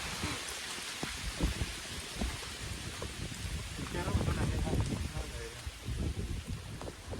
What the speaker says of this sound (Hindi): बारिश ज़्यादा दिया है दोस्तों